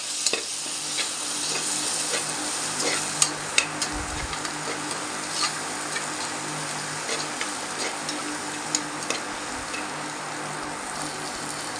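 Tomato sautés in a pan for coconut milk rice with a continuous bright sizzle, and a few sharp stirring clicks and scrapes come through close by. No one speaks.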